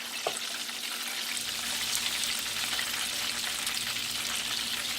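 Calamari and whiting fish coated in cornmeal fry in a skillet, a steady dense sizzle and crackle of hot grease running throughout with no talking.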